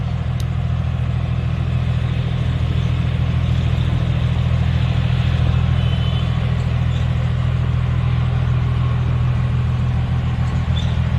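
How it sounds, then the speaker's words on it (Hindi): Toyota HJ61 4x4 with unfinished exhaust work idling steadily, a loud, deep, constant rumble from the exhaust, close by and unbroken for the full length with no talking. "गाड़ी स्टार्ट है। और आप इसका एग्जॉस्ट देखें"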